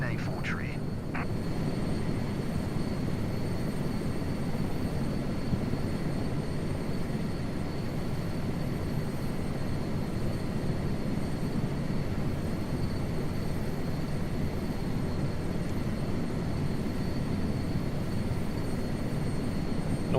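Aircraft engine on landing approach in Microsoft Flight Simulator 2024, a steady, unbroken drone with faint tonal whine lasting throughout, close and even in loudness, with no clear voices over it.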